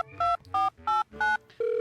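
Four short electronic telephone beeps in an even rhythm precede a longer steady tone, signalling an incoming call; the sound is clear and close, with no voices.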